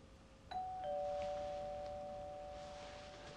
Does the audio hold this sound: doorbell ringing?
yes